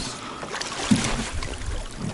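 Water sloshes and splashes around a small boat moving along a taiga river, with a soft wind-like rush and a low thump near the start.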